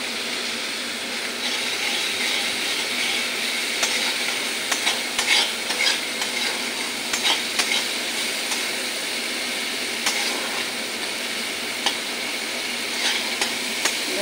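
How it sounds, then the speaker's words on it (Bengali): Spice paste fries in oil and is stirred in a pan while cooking a fish curry with ridge gourd and tomato, a steady close sizzle with soft scraping stirs and occasional spatters throughout. "দেখো আমার মশলাটা কি সুন্দর কষে গেছে, তেল বেরিয়ে আসছে।"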